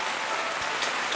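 Steady rain pours during house construction in the Mekong Delta countryside, a dense, even hiss of drops on surfaces with no talk.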